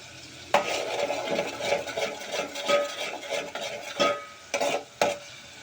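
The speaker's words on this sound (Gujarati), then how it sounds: "તો આમાં આપણે આદુ અને લસણ છે આપણે એને ઘડીક આમનામ સડવા દઈશું" Fresh ginger and garlic fry in a pan of oil for Kathiyawadi garlic potatoes, giving a steady close sizzle broken by a few sharp scrapes and clinks of a spoon stirring against the pan, with no talking.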